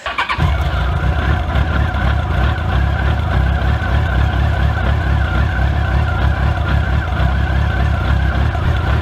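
A steady, loud Yamaha motorcycle engine idles continuously while warming up after starting, having not been run in a while, a low rumbling drone with no talk over it.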